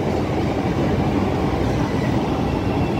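Train pulling into a Chicago rail station, heard as a steady, loud rumble of rolling carriages and wheels on track throughout, with no speech.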